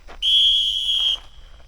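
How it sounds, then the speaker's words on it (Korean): A single sharp whistle blast rings out clearly for about a second to signal the start of a park golf instructor exam, then stops, leaving quiet background. "호루라기 소리로 기사 시작을 알렸습니다"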